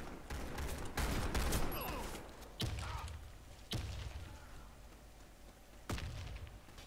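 Viper gun in Warface fires in a dense volley followed by several sharp, separate shots, mid-distance amid game ambience with no talking.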